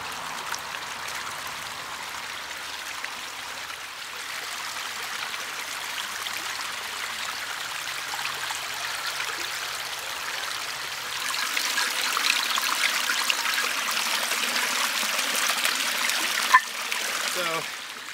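A small waterfall stream flows through a homemade micro water wheel, a soft steady trickle and splash that grows fuller and louder partway through, with a brief knock near the end.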